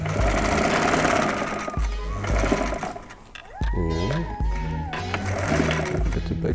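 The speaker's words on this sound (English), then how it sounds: "now we're sewing on the surface side. What's going to be seen by people when you're wearing it. So we do a top stitch." Sewing machine top stitching fabric, running in loud, close, steady whirring bursts with a brief pause and speed change midway, while a voice talks faintly underneath.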